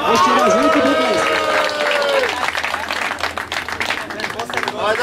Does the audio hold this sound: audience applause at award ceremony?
yes